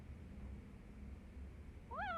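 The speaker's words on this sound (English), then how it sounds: "Meow." A cat meows once in the video game Judgment, a short rising-and-falling call arriving near the end over a steady low game hum.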